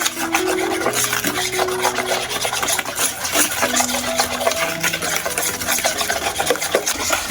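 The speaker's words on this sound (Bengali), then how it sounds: "ভালো করে মিশিয়ে নেব চিনি আর ডিমটা" Powdered sugar and egg being stirred together in a bowl, a steady scraping and rubbing of utensil against the bowl that runs throughout, with background music underneath.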